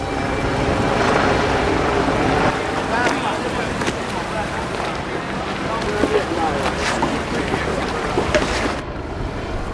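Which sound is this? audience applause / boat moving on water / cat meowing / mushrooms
boat moving on water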